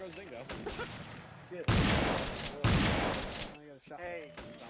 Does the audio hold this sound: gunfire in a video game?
yes